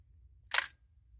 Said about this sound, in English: if you don't have any batteries, let's turn this off, and you want to trip the shutter, just pull this lever